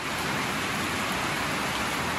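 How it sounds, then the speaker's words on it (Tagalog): Heavy rain pours in a steady dense hiss during a flooding downpour, loud and unbroken, with no voices. "Grabe yung ulan. Lakas."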